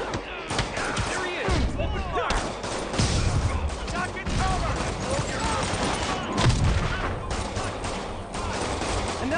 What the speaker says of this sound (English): There he is! Open fire!